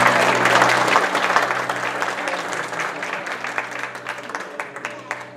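A church congregation claps together in welcome, a dense wash of applause that starts full and gradually thins toward the end, with a steady hum running underneath.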